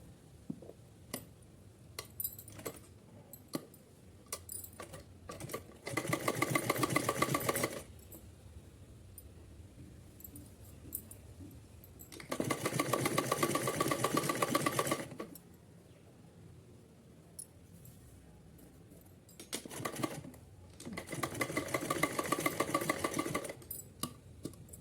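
A sewing machine runs a straight line of stitching across cotton fabric for a small deity outfit, in three steady bursts of several seconds each, separated by quiet handling clicks and taps, with no talking.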